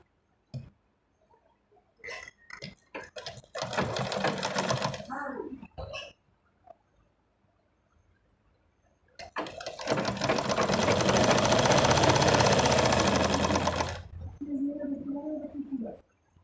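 Sewing machine double-stitching the cuff of a salwar, two bursts of fast whirring stitching, a short one then a longer run, separated by handling clicks and pauses.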